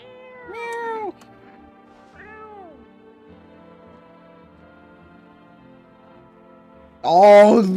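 A cat meows in a video game: a couple of clear, fairly soft meows with a steady background hum, then a louder, drawn-out meow at the end.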